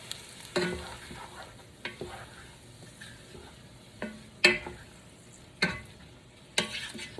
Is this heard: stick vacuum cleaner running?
no